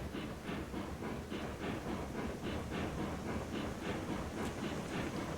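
A train in the multiplayer railway game Railroads Online rolls along its rails with a steady, even clickety-clack rhythm over a continuous low rumble, moderately quiet and with no voices.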